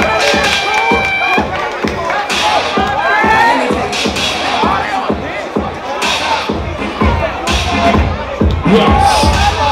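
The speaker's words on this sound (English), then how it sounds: "a round of applause." An audience at a dance performance battle at a ball cheers and shouts in a loud, continuous crowd roar, with excited voices and a thumping beat running underneath.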